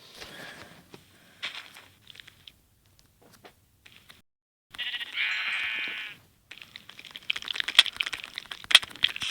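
A single wavering Minecraft sheep bleat stands out after scattered quiet clicks, followed by crackly steps and rustling.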